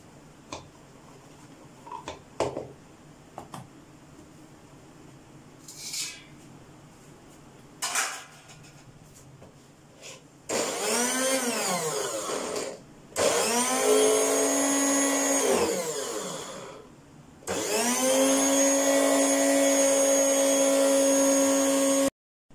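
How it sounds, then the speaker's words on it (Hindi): An electric grinder whirs in several loud bursts as mint and coriander are blended into paste, preceded by some clinks and handling noises; the motor runs with a steady high whine, stopping and restarting. "अब मैंने इनको ग्राइंड करना है, बहुत ही अच्छी तरह इनकी पेस्ट बना लेनी।"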